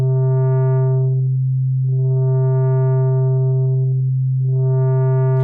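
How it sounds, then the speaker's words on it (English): A Synthmaster 3 wavetable oscillator holds a loud, steady low sine tone. A brighter, buzzier layer swells in and fades out three times over it, and the sound cuts off abruptly at the end. "it looks and sounds like a sine wave"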